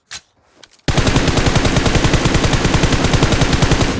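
Sustained automatic rifle spray fire in a mobile shooter game, a long unbroken burst of rapid, evenly spaced shots that starts abruptly after a brief quiet lead-in and stays loud and close throughout.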